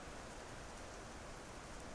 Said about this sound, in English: but now in the afternoon it's raining